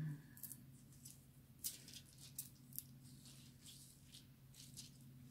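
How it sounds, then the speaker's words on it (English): Quiet crisp snips and crinkles, a few sharp cuts spaced irregularly over a low steady hum, with no one talking. "so let's cut some foil"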